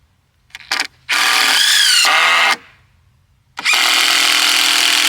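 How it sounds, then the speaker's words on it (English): A power drill runs in bursts while a wooden bike ramp is built from timber: a couple of quick blips, then a long loud whine that rises in pitch, a pause, and another sustained run, close up. "So I got the drill, I got a timber."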